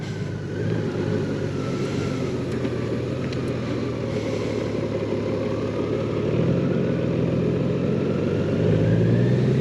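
A 2022 Honda Goldwing 1800 Bagger motorcycle engine idles continuously at close range, a low rumbling, throbbing drone that swells slightly louder toward the end.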